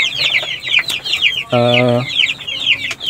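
Merawang village chickens cluck in a busy, repeated chorus close by, with one drawn-out nasal call rising midway through the flock's chatter.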